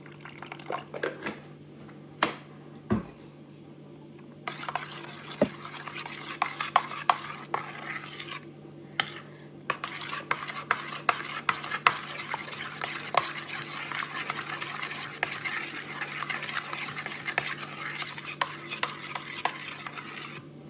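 Curd rice being stirred with added water until creamy, a continuous wet squelching and scraping of spoon against bowl with small clinks, close and steady for about twenty seconds.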